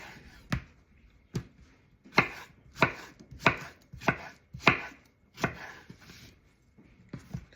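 A knife chops cucumber on a cutting board in about ten crisp, close thuds at a loose, steady pace, with soft kitchen background between strokes.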